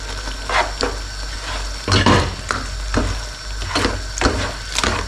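Pieces of chicken being returned to a pan of cooking egg for a Yemeni chicken saltah, with a steady frying sizzle under repeated wooden scraping and stirring knocks in an irregular rhythm, close and fairly loud.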